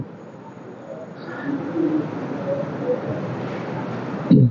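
Pigeons of different colours coo at an open-air pigeon market in Brahmanbaria, soft repeated low coos over a murmur of crowd voices and market bustle, with a brief louder bump near the end.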